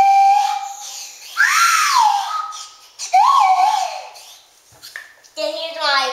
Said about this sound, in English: here's a whistle, and I'm gonna just blow it for a second